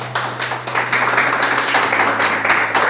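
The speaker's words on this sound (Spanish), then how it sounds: "Vamos a darle un fuerte aplauso a la palabra." Congregation at a Spanish-language church service applauding together, a steady dense wash of many hands clapping, fairly loud and continuous throughout.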